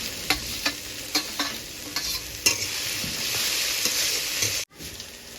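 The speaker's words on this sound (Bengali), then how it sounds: "যে পটলগুলো আমি পুড়ে রেখেছিলাম সেইগুলো এবার এতে দিয়ে দেবো এটা আমি ভেজে নেবো" Pointed gourd fries in oil with a fried spice mix, salt and turmeric: a constant sizzle with several sharp spatula scrapes and knocks against the pan, close by.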